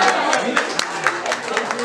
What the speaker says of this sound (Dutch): Dames en heren, geef ze daar een applaus.